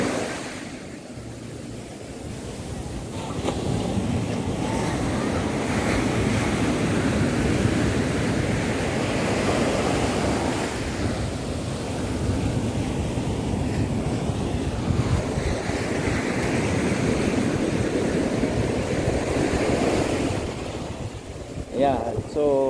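Sea waves at Abagatanen and Umbrella Rock beach in Agno, Pangasinan roll in as a steady, loud surf wash, mixed with heavy wind buffeting the microphone throughout.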